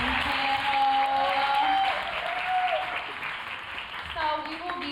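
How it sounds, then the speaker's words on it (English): Audience applause for a women's business panel rolls on steadily as a voice talks over the clapping, the crowd noise easing slightly toward the end. "Can we get a round of applause for this amazing panel?"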